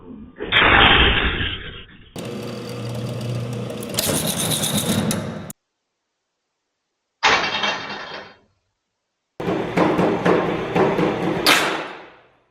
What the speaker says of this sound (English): That loud explosion you're hearing? That's hundreds of pounds of stored tension releasing instantly.